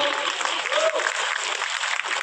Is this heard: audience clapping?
yes